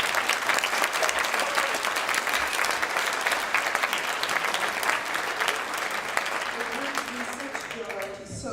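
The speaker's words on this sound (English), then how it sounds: "I want you to give the mayor a big round of applause" A crowd gives a long, sustained round of applause for the mayor at an event, steady and dense throughout before tapering off near the end as a voice begins.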